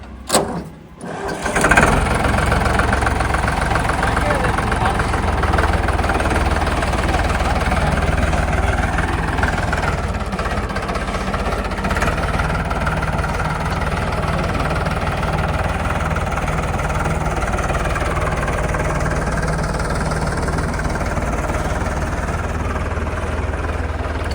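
A motorcycle engine starts with a brief sputter, then idles steadily and loudly close by for the rest of the stretch, a low continuous rumble.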